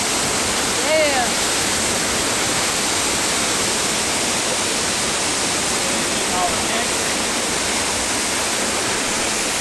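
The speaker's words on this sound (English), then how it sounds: "This waterfall sounds a lot like her sound machine." A waterfall roars at a campsite overlook, a steady broadband rush of falling water filling the whole stretch evenly, with faint brief voices near the start and later.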